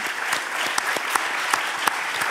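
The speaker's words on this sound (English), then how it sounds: "Can I have one more applause for Priyanka Bista" Steady audience applause at a design talks event, many hands clapping in a dense, even wash with a few sharper claps standing out, continuing throughout.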